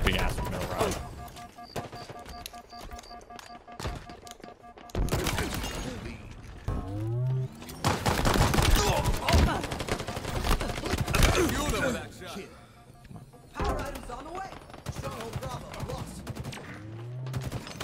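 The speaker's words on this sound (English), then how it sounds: "I shot him with a mangler" Heavy pistol fire from a Mangler in Halo Infinite, with loud, punchy shots among chaotic combat noise, clanks and impacts over roughly eighteen seconds, under occasional voices.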